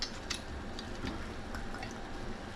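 Worcestershire sauce splashes from a bottle into skillet beans in a home kitchen, a few soft liquid drips and pours that are quiet and close, with no talking.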